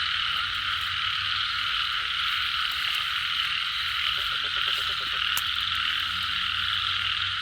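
Frogs croak continuously in a rainy forest at night, a thick chorus of overlapping calls droning steadily with a nearer, rapid pulsing croak rising briefly partway through.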